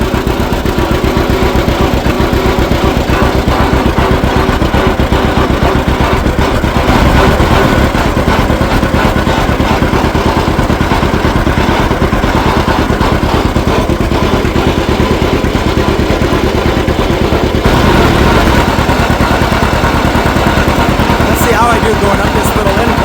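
A loud antique tractor engine runs steadily at full throttle in high gear up a slight incline, under strain, with a droning, rumbling throb that holds nearly constant throughout.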